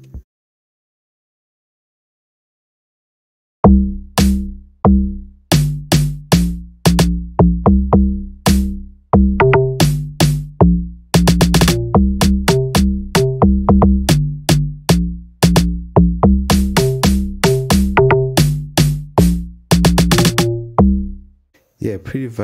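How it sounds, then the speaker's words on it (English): Layered Amapiano snares in an FL Studio beat, one playing most of the pattern and a second only in certain parts, over a full groove of dense rhythmic hits after several seconds of near silence. "And then I added the two snares."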